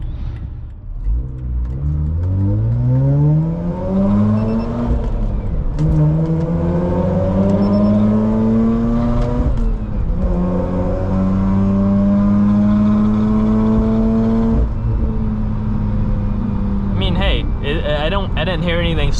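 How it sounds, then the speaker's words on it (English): A car with an aluminum undertray pulls hard through a tunnel, its loud engine roar climbing steadily through several gear changes with reverberation, then dropping off near the end. "we're gonna get ready to do a little pull in this tunnel"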